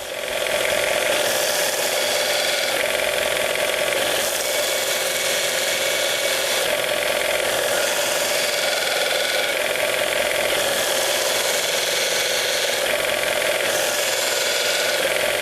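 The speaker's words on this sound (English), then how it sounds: "So I sharpen those on here, and I do that simply by touching the bevel and lifting the handle." A bench grinder runs steadily as a woodturning skew chisel is sharpened against the wheel, bevel touched and handle lifted, producing a continuous loud mechanical whir and grinding with no talking.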